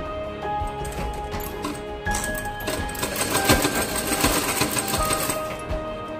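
Electric sewing machine stitching a fabric 3D face mask, running steadily with a busy mechanical whir and rapid needle clatter, close and fairly loud throughout with no talking.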